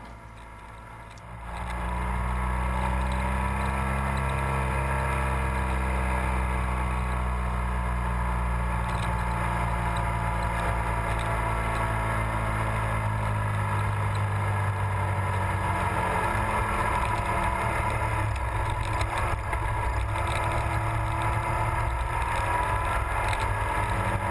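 A motorcycle climbs into the hills on a desert road between Beatty, Nevada and Bishop, California, its engine a loud, steady close-up drone with wind rush that holds unbroken throughout, with no talking.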